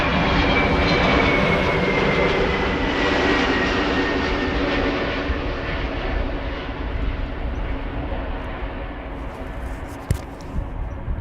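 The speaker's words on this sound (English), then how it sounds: "Delta Airlines 136 arriving from Detroit, A330." A Delta Airlines Airbus A330 arriving from Detroit rumbles loudly and continuously as it comes in at Amsterdam Schiphol, its engine roar steady and close with a faint whine, alone without talk.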